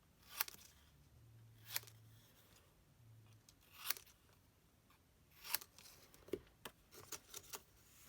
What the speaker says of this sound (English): I'm going to mark around there so I know to cut inside those lines.